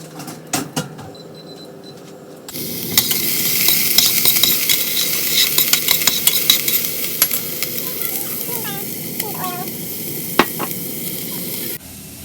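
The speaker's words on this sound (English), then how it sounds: "I'm definitely burning the onion" Chopped onion frying in a pan at home, a steady sizzle close by after an initial quieter stretch, with scattered clinks and scrapes of a utensil stirring.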